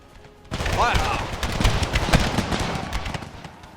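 Massed musket volley in a Civil War strategy game, a sudden crackling burst of many shots that keeps rolling with scattered reports and rumble for several seconds, loud and close.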